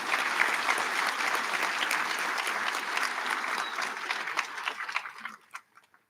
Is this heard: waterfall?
no